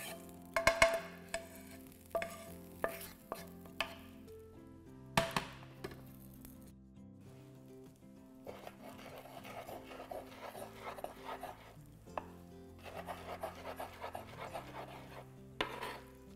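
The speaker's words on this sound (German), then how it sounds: "Ihr könnt eure Spinat-Erbsen-Mischung jetzt auf einem Brett verteilen und dann hacken wir es noch ein bisschen klein" A knife chops a spinach and pea mixture on a board, with several sharp, irregular knocks early on, then a busier stretch of scraping and chopping texture that comes and goes.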